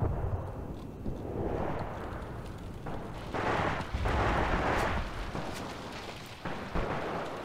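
Mortar rounds landing in Graviteam Tactics: Mius Front, a series of deep rumbling blasts that swell and fade over several seconds, heaviest in the middle, against a low battlefield background.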